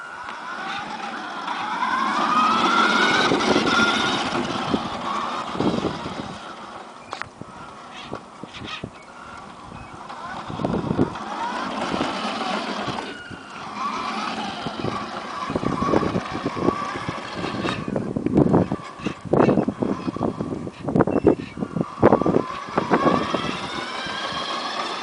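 A truck manoeuvring around a curve, its engine rumbling loud and close, rising and falling, with scattered knocks and bursts of noise as it works through the turn.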